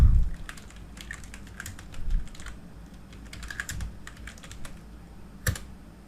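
Fingers type a search into a web browser on a computer keyboard, a close run of quick, irregular key clicks with a few heavier taps and short pauses, no talking.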